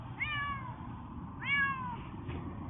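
Two distinct cat meows, a few seconds apart, from a male cat that sounds close and clear, with no talking over a low background hum.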